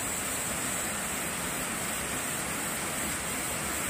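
Rain-swollen Bidulginang falls on the Hantan River, Pocheon, sends down a constant, loud wash of rushing water, an even broadband roar with no pauses or other sounds over it.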